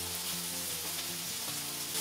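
Sweet-and-sour chicken with ginger, garlic and sauce being stirred together in a pan, giving a steady close sizzle and frying hiss throughout with faint scraping, no talking.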